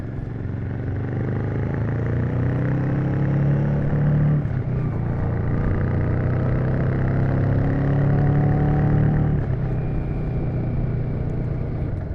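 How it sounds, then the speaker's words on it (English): A Royal Enfield Shotgun 650 motorcycle engine rumbles steadily with a deep, bassy tone as it winds down, its pitch gliding lower in smooth passes without any talking. "The engine has a nice bassy note when you're decelerating"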